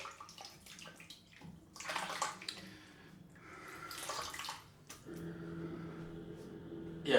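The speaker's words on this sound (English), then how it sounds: "wet the brush." A shaving brush is dipped and swished in water in a bowl, giving intermittent splashing and sloshing bursts with a steadier watery gurgle near the end, close and fairly quiet.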